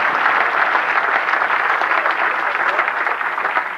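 A steady wash of audience applause fills the room, even and continuous from start to finish with no voices over it.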